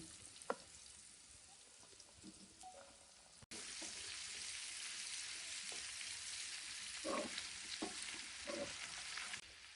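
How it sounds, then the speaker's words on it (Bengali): Radish and carrot pickle vegetables fry in oil over a low gas flame, an even, quiet sizzle with a few scraping stirs that grows louder after a brief break. "এবারে আমি সব সবজিগুলো এই তেলের ওপরে দিয়ে দেবো"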